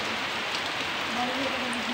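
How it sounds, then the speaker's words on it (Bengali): Wind-driven rain patters steadily in a daytime downpour, a dense even hiss of drops blown about and coming in through open windows and doors. "হাওয়াও চলছে, হাওয়ার সঙ্গে বৃষ্টিটা এদিক ওদিক হয়ে জানলা দরজার ভেতর থেকে যেদিক থেকে পাচ্ছি ঢুকে আসছে"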